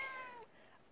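A cat lets out a single short, faint meow that rises and then fades in under a second, indoors on a snowed-in day.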